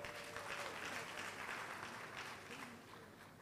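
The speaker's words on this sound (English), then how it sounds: "Let's applaud Professor Seydou Alassane." An audience at a university graduate school congregation ceremony applauds Professor Seydou Alassane with a soft, continuous wash of distant clapping that fades slightly toward the end.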